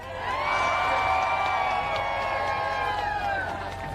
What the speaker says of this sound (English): So you're going to want to give her a major round of applause.